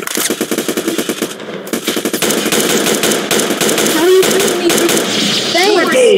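Rapid automatic gunfire from a Roblox match rattles in dense bursts up close, followed by continued shots while excited voices talk over the action.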